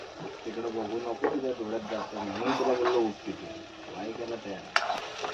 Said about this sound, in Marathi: मसाला किती छान शिजतोय त्याला मस्त असं तेल सुटलं